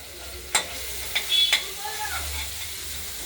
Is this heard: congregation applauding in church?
no